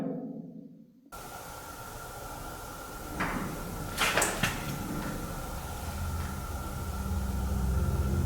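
Inside an abandoned asylum, a door slides with a few scraping, rumbling bursts about midway, fairly close, over a steady background hiss.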